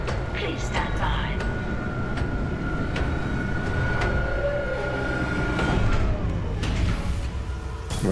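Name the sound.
tram car arriving in video game Dead Space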